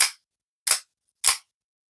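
Microtech Combat Troodon OTF knife blade snapping out and retracting, three sharp metallic clicks spaced evenly apart, close and loud with silence in between.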